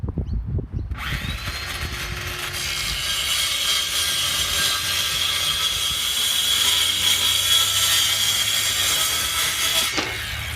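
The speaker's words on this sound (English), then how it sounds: "cutting the ply to size" A power saw cutting a plywood sheet to size in a hardware store car park, a loud sustained whining buzz for about nine seconds after a brief start, close by, then stopping abruptly.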